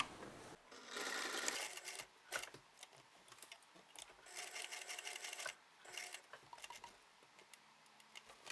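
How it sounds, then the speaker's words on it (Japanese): Sewing machine stitching the facing of a blouse made from Liberty fabric, running in several bursts of fast mechanical needle chatter separated by short pauses, close and fairly quiet with no talk. "見返しを縫います。"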